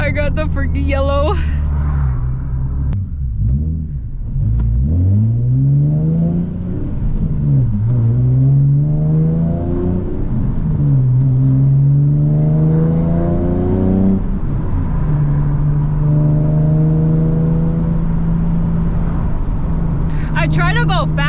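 Nissan 370Z fitted with a loud aftermarket exhaust, the engine revving up through several gear pulls in a continuous loud drone, the pitch climbing and dropping between shifts.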